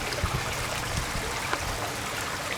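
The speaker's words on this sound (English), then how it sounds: "Water will run down to the next plant." Water trickling down through a stacked strawberry bucket planter in a container garden, a steady close splashing run with no voices.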